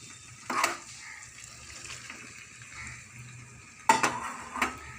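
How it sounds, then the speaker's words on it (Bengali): Pointed gourd fries with turmeric and spices in a pan, giving a faint, quiet sizzle, with a few brief bursts of stirring and scraping from a utensil. "পটলগুলো দিয়ে একটু নাড়াচাড়া করব"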